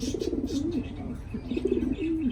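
Pigeons coo in a low, throaty repeating rhythm at a loft in Pensacola, Florida, close and steady, with faint chirps and a voice in the background.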